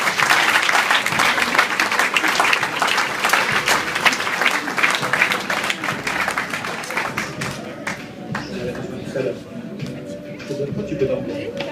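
A live audience at a stage hypnosis show applauds loudly, dense continuous clapping that thins and fades toward the end as a voice starts speaking.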